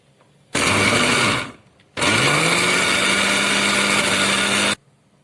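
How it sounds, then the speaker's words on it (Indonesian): Blender running at low speed mixing meatball dough, a loud steady motor whine in two runs, a short first burst then a longer one with a rising hum as it settles, alone without talk. "Sekarang kita blender dengan kecepatan rendah dulu, kita coba sampai dia rata ya"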